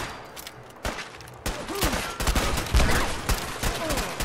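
Rapid gunfire bursts and sharp impacts from a video game gang shootout, with a grenade explosion amid the firing, loud and dense throughout with a few brief whooshing swept tones.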